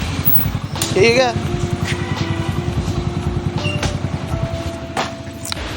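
A motorcycle engine idles with a steady, close rumble as the bike is parked, while people talk over it and a brief horn-like tone sounds.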